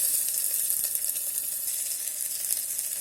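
Chopped onions frying in oil inside an electric kettle, giving a steady, close sizzle of bright crackling hiss with faint pops throughout and no voices.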